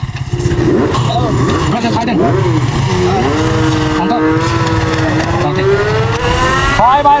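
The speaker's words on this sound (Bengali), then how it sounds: "এখন আমরা রওনা দিছি রাঙামাটির উদ্দেশ্যে বাইক নিয়ে রেডি" A motorcycle rides off from Sajek towards Rangamati, its loud engine revving with rising and falling pitch, mixed with other close sound throughout.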